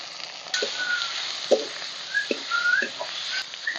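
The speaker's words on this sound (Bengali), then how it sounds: "চিকেনটা একটু ভালোভাবে কষিয়ে নিয়েছি" Chicken frying with ginger paste, turmeric, chilli, cumin and coriander powder gives a steady close hiss, punctuated by scraping strokes and brief squeaks as it is stirred, with no voices.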